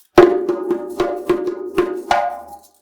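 A short African hand-drum break: five sharp, ringing strikes in quick succession, close and punchy, ending with a resonant final hit.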